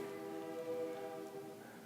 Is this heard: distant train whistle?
yes